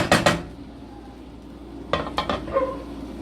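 A spoon stirs rice frying in a pot for Greek-style rice. Two short bursts of scraping and clinking against the pot sound close up, with a quiet gap between them.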